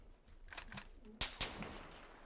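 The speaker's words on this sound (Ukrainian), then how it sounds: "О, ще зверху стріляє чувак" Gunfire in a video game: a few quick bursts early, then two sharp distinct shots, all faint and distant-sounding over a quiet background.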